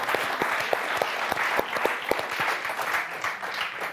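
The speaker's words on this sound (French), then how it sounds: "Odile, on vous applaudit très fort." Steady applause from a TV game show studio audience, dense clapping with a few sharper claps standing out, sustained throughout without voices.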